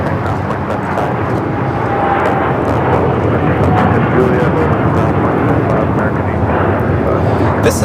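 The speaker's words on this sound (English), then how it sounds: "This is United Airlines 152 taking off to Hong Kong on the 787-9 Dreamliner" A United Airlines Boeing 787-9 Dreamliner bound for Hong Kong takes off at LAX with a loud, steady, broadband engine roar that holds without pause, wind buffeting the microphone and faint voices beneath.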